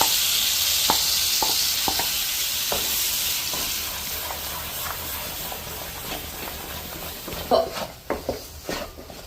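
Ground chana dal cooked with jaggery is stirred in ghee, giving a bright sizzling hiss that fades slowly, with repeated soft scraping strokes and a few louder clattering scrapes near the end.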